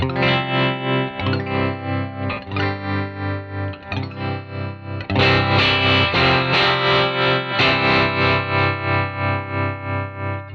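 Clean electric guitar chords through a 1967 Fender Deluxe Reverb-style tone, pulsing with a steady tremolo wobble, washed in springy reverb, getting louder and fuller halfway through, no voices.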